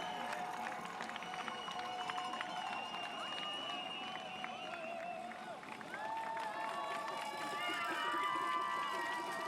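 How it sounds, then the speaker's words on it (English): Crowds line the course of the 2023 Berlin Marathon, their cheering and whistling a steady, fairly distant wash that swells slightly toward the end, with a commentator talking over it. "Crowds out in really good numbers."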